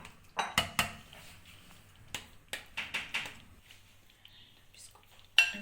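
Cooked dalia porridge is dished out of a pot into a serving dish, with a series of sharp spoon-on-metal clinks and scrapes in irregular bursts, fairly close and alone, ending on one louder clack.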